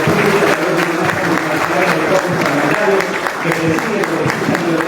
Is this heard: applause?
yes